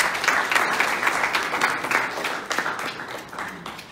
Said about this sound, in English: They give him a round of applause.